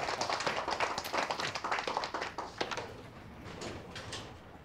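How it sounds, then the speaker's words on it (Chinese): Applause from a small audience at an informal gathering where a novel is being shared: dense, overlapping hand claps fill the first three seconds, then thin out into scattered, softer claps as the clapping dies away. "来，鼓掌欢迎。"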